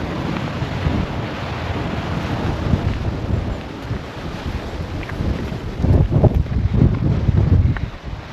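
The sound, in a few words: strong wind blowing outdoors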